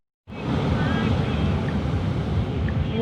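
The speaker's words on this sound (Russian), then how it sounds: "Тут большие просто волны, людей сносит." Large sea waves and strong wind at a closed-off shore make a loud, steady roar that begins abruptly and continues without a break.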